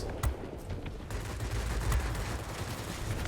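Machine gun fire from aircraft in World of Warplanes, a Spitfire DB605 battle, with rapid bursts and sharp shots over a dense, steady roar.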